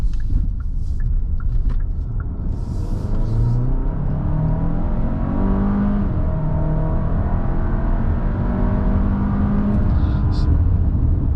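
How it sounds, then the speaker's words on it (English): 2024 Kia Sorento X-Pro with an 8-speed dual-clutch transmission accelerating in sport mode, a steady cabin engine drone with rising and shifting tones over road rumble, moderately loud and continuous throughout. "I'm going to pop into sport here, get a little bit of an acceleration for you guys."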